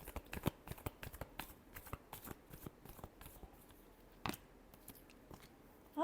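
Tarot cards are shuffled in soft, quick riffles and taps, a series of faint, close papery flicks with brief pauses between.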